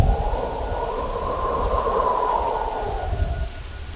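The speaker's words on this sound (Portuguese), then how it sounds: "o vento da tempestade jogou gotas de chuva para dentro do quarto" Storm sound effect with rain falling beneath a long, low rolling rumble of thunder that swells through the middle and fades toward the end, continuous and fairly loud, no speech.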